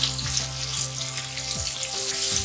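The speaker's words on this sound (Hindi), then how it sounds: "लहसुन डाल रहे हैं, 1 टेबलस्पून है लहसुन पेस्ट।" Garlic paste frying with golden onion and turmeric in ghee, giving a continuous, close, bright sizzle with faint stirring scrapes and no voices.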